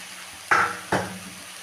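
Potato, eggplant and greens stirred in a pan, two sharp scraping knocks of a utensil against the pan half a second apart, close and otherwise quiet.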